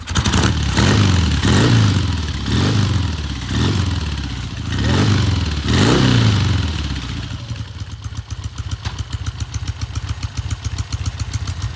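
A 1969 Norton Commando 750 Fastback, a high-compression twin, is kicked over in several heavy rhythmic strokes, then fires and settles into a fast, even idle with a close, steady beat.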